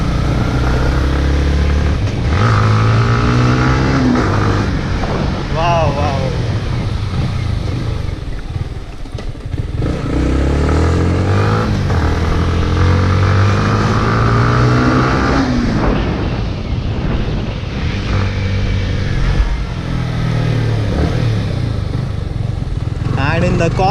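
A Yamaha MT-15 motorcycle engine and exhaust revving throughout, loud and close, with a person speaking over it and a brief exclamation.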